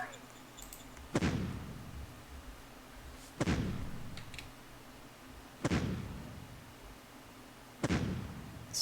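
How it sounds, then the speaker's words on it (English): Artillery bombardment in the strategy game Shadow Empire, four loud booming blasts spaced about two seconds apart, each with a sharp onset and a rumbling decay, over a faint background. "let me see what happens if we do bombardment first"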